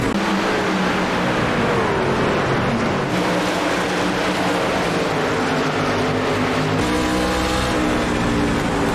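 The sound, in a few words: Ford F150 race truck engines at Bristol, iRacing video game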